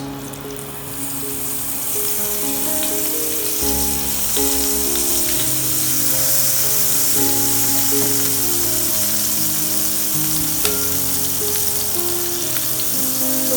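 Soy sauce hits a hot pan while making crispy potato snacks, producing a steady, loud sizzle and frying hiss that runs continuously under background music.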